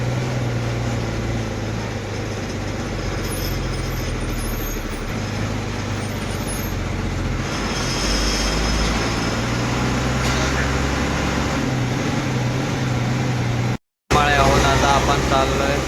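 An MSRTC Lal Pari bus travelling from Tuljapur to Pune via Barshi, near the Karmala bus stand, fills the clip with a loud, steady engine drone and road rumble, broken by a short dropout near the end.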